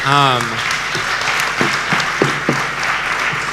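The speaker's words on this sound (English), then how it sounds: "Can we give a big round of applause for the panel?" Loud, steady applause from a conference audience for an investment and venture capital panel, dense and sustained, with a voice briefly heard over it at the start.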